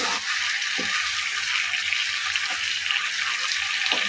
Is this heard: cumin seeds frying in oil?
yes